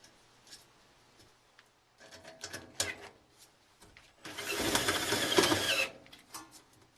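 A power driver runs long number 8 self-tapping screws into the corners while installing the chimney for a Heartland Elmira Oval cookstove, giving one loud, sustained whirring burst of about two seconds between quieter scattered clatter and handling noises.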